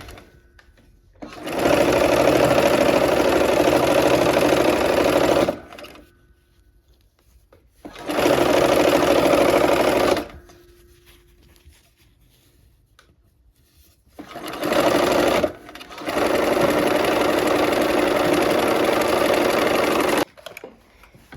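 A sewing machine stitching fabric sections together, running in three loud steady bursts of a few seconds each with quiet pauses between them, close up and without talk.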